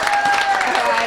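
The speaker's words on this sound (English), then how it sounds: "Are you going to give me some applause?" Brief burst of audience applause and clapping in a comedy club during a stand-up show, heard at moderate level with a voice talking over it.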